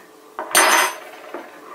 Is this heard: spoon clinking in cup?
yes